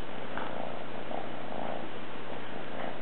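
A kitten purrs steadily while resting on a soft blanket, a low continuous rumble with faint rhythmic swells, close and quiet, with no talking over it.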